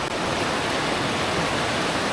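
River flowing right beside a riverside lodging in Bandung, a steady loud rushing of water with no break, close and continuous.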